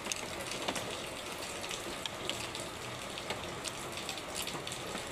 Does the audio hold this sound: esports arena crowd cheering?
no